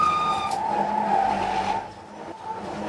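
A Xiaomi SU7 Ultra electric four-door car laps the Nürburgring Nordschleife with a loud, steady motor whine and tire roar, close up and continuous, easing slightly near the end.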